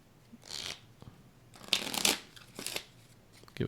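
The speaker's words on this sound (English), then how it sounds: "Give it 3 quick shuffles without looking at it" A deck of playing cards is riffle shuffled in several quick, crisp bursts of riffling and snapping, close up and alone, with short pauses between the shuffles.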